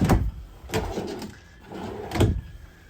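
Bathroom drawers in a 2022 Keystone Sprinter 25ML fifth wheel trailer opened and shut, three quiet sliding thumps spaced about a second apart, close and alone.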